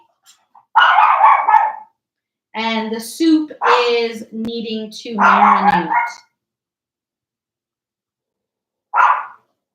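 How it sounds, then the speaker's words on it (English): During a yoga class, a dog barks in loud close bursts: one volley, then several sharp barks in a row, and a final lone bark after a pause. Someone speaks briefly between them. "Sorry about my dog."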